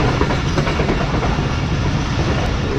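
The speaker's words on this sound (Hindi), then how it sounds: "तो एक अदद कंटेनर ट्रेन हमारे राइट साइड पर मौजूद है।" A container freight train rolls past on the adjacent track while a passenger train of the Karachi Express moves alongside, a loud, close, continuous rumble with rhythmic wheel clatter and no voices.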